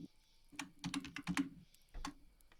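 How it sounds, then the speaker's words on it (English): Computer keyboard typing picked up over a voice chat, faint and slightly distant, in short bursts of clicking keystrokes separated by pauses. "I'm hearing typing noises from you."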